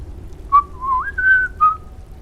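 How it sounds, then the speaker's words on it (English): Whistled melody from the video game Thieves Guild: a short, clear, close tune of a few sliding and held notes with a brief pause between phrases, alone with no talking. "it was actually whistles in its original form"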